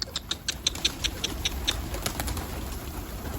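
Pet pigeons near a coop at dusk give a series of short, repeated calls in an irregular rhythm over soft outdoor background noise, close and moderately loud.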